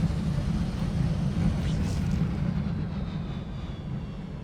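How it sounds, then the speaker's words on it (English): Continuous roar of a VTOL aircraft's engines in flight in a space sim, a steady low rumble with airy hiss above it that fades slightly toward the end. "this new VTOL system"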